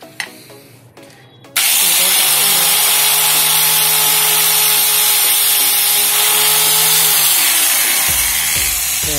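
Metal file worked by hand on a motorcycle tire valve removal tool, a steady loud broadband rasping that runs continuously for about seven seconds after a short quiet lead-in.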